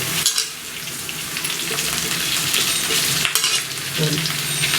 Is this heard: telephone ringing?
no